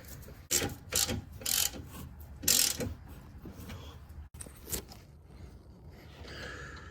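A hand ratchet snugging the lower control arm mount bolts on a Dodge Grand Caravan, heard close up as several bursts of rapid clicking separated by short pauses, with faint scraping in between.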